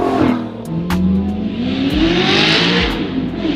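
Supercar with an Armytrix Valvetronic exhaust revving, a loud, close engine note rising and falling through several throttle blips with crackling exhaust over a few seconds.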